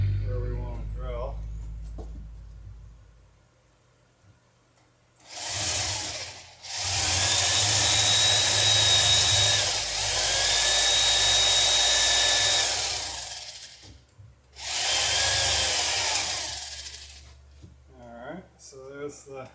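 A power drill bores into a center-punched spot while finishing a rig for the Alpha Beachcomber: three loud, whining bursts of drilling with short pauses between them, preceded by a low background hum.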